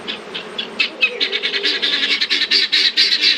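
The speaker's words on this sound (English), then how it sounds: "You all can hear the guineas." Guinea fowl call in a rapid, harsh series of repeated squawks, quickening and growing louder and denser toward the end, close by with no talk.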